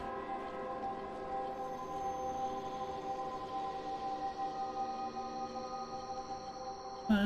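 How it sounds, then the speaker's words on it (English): Wailing siren alarms sound inside the Dark Souls video game, a steady layered droning tone that holds for several seconds at moderate level, ending with a brief sharp noise. "It explained the siren alarms then."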